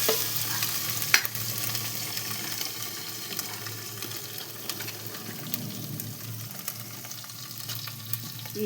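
Coriander paste frying in oil in a pan for a home-cooked vegetable pulao, with a steady sizzle and bursts of stirring from close by, plus a sharp clink near the start; no voices.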